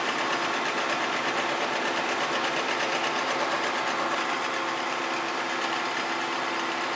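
Milling machine power feed running during single point threading on a capstan part, a steady whirring machine drone with a fine rhythmic texture, close, even and unbroken, with no talk.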